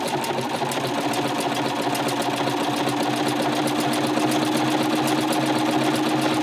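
A sewing machine runs continuously at steady speed, working a blanket stitch on appliqué with a fast, even mechanical chatter, close and loud with no talking.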